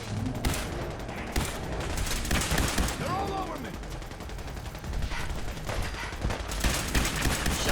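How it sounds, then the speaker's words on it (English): Rapid bursts of allied gunfire in the video game Fallout 4, a dense, continuous fusillade of shots and machine-gun rattle throughout, loud and close, with game voices mixed in. "this shooting is annoying"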